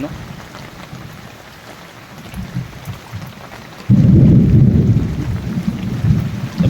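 Monsoon rain in Valsad, Gujarat patters steadily, then a deep rolling rumble of thunder bursts in loudly and lingers, growling under the continuing downpour.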